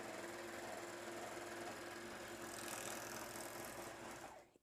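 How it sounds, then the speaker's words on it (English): A Juki MO-1000 serger stitches a seam through fleece, a steady fast mechanical whir with rapid needle chatter, close and continuous, then stopping abruptly at the end. "I'm stitching a seam and I'm finishing off the edges with a more professional look at the same time."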